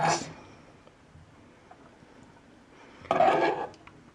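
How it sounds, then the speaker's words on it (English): Warm potato salad with shallots and dressing spooned onto a plate: a clink of utensil on dish at the start, a quiet stretch, then a louder scraping clatter near the end, close by with no talking. "I'm going to spoon some of our lovely warm potato salad onto a plate"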